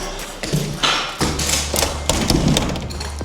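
A stiff door in an old house under renovation is shoved open, giving several heavy thuds and scraping knocks over about three seconds, loud and close.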